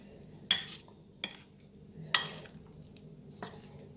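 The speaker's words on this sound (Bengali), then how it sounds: "এইভাবে এটা মেখে নিচ্ছি।" A jackfruit and egg mixture is kneaded by hand, giving four separate wet squelches about a second apart against a quiet background.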